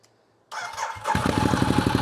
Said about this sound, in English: This engine, this 1198 Testastretta, has won more MotoGP championships than any other engine, and it sounds like it.